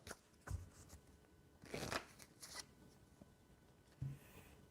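Tarot cards shuffled and drawn from a deck during a card reading, a few soft papery riffles and slides, quiet and close, with no voices.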